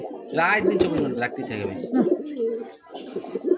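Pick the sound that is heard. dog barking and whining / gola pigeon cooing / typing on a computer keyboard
gola pigeon cooing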